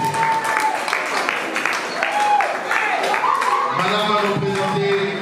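Audience applause at a group's honouring ceremony, a dense, steady wash of many hands clapping throughout, with voices and a brief tonal sound rising over it near the end.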